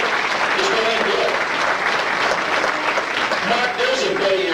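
Loud, dense applause fills a banquet hall at an auto racing fan club awards night, a crowd clapping steadily throughout with voices and cheering mixed into the sustained wash.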